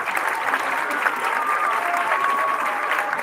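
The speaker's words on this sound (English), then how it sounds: "So please give them a huge round of applause and thank you" Steady applause from a graduation audience at an eighth grade ceremony, dense and continuous clapping from a large crowd that holds at an even level throughout.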